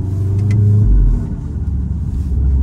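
A VW Golf 7R with a stage 2 straight-pipe exhaust revs loudly nearby, its deep rumbling engine note rising then dropping, with a brief crackle of exhaust pops near the start.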